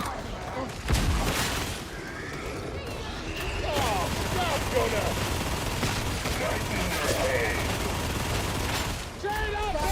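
Rapid video game gunfire crackles in quick bursts and volleys against a busy background of in-game effects, holding at a fairly even loudness throughout.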